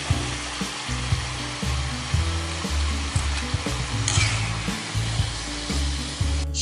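Palm fritters (taler bora) frying in hot oil give a steady, close, broadband sizzle and hiss that runs the whole time, with a low rumbling layer underneath and no talking.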